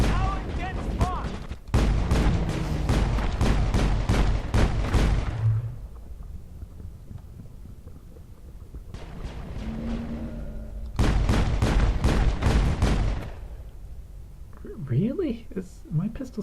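Pistol gunfire in the video game Mass Effect, rapid bursts of shots in several long volleys separated by quieter pauses, with someone talking over the action.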